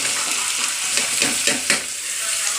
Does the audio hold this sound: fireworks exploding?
no